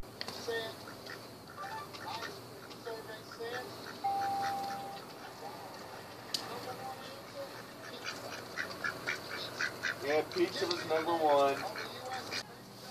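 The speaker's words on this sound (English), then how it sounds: "This is what happens when a cat and a duck have a tickle fight." A duck quacks repeatedly in quick, raspy bursts during a playful scuffle with a cat, close and moderately loud over background noise, with a rapid run of quacks near the end.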